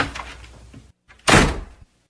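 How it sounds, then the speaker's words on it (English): An office door opens with a soft rattle of the handle, a short pause, then a fuller whoosh and thunk as it swings, heard close in a quiet room. "The door of the office opened"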